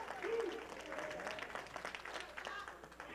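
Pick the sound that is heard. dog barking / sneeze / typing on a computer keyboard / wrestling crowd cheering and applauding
wrestling crowd cheering and applauding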